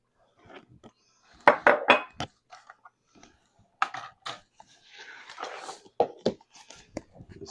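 A spoon clinks and scrapes against a container while stirring a pound of sugar into homemade wine must, producing a series of sharp, close taps and rattles in irregular bursts with quiet gaps between them.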